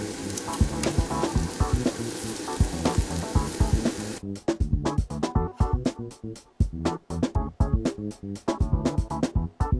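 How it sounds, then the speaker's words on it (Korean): Marinated Korean galbi ribs cook on a grill with a continuous loud crackling sizzle, then turning into choppier, rhythmic bursts of spitting and popping as the meat is moved, close up with no voices. "요리사의 비법이 숨겨진 양념갈비를 지글지글 군침이 돌도록 구워내고 있는데"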